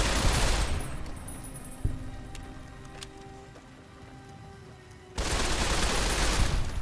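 Gunfire in the video game Fallout: New Vegas, a loud dense burst of rapid shots at the start and again near the end, with quieter scattered game sounds and a single sharp crack in between.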